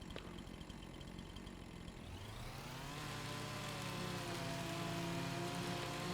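A Husqvarna chainsaw in Farming Simulator 25 cutting tree stumps, its engine rising from a low rumble into a steady, loud, high-revving whine that holds as the chain bites into the wood.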